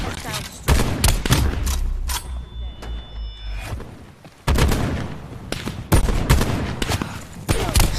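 Sniper rifle shots in a video game, several loud sharp reports with booming low tails spread across the stretch, a quieter lull in the middle.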